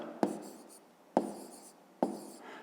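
A pen writes out an answer to a fifth-grade math exercise on paper, three quiet sharp taps each followed by a short scratching stroke, close and alone.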